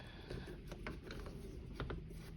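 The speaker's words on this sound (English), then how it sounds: "We've got basically 6 screws in the bottom, so we'll start by taking those out." A screwdriver backing screws out of the plastic underside of a 12-inch RC Dalek toy, giving small close ratcheting clicks and faint scraping at a steady working pace.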